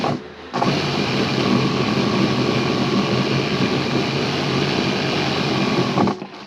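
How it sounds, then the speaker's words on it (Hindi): Sewing machine running steadily as it stitches a double seam on ladies' pants, a continuous loud mechanical whir that starts abruptly, holds for about five seconds and then cuts off. "ये हो गया, मैंने सिलाई मार लिया।"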